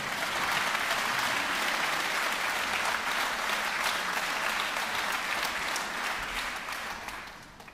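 Sustained audience applause for an orchestra at a concert, a dense even wash of many hands clapping that holds steady for several seconds before beginning to fade.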